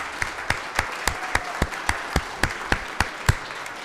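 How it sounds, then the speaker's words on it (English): Audience at a town council meeting claps in slow, sparse, evenly spaced claps, about a dozen distinct sharp hits with no talking. "let's give everybody a round of applause"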